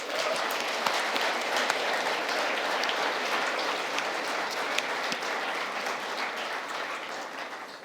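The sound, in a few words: audience applause for Codegeist winners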